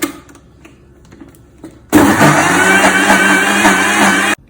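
A kitchen blender mixing dosa batter with water switches on abruptly after quiet handling noises and whirs loudly and steadily for a couple of seconds, then cuts off.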